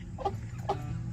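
A mother hen gives two short clucking calls, close by, over a steady low farmyard rumble.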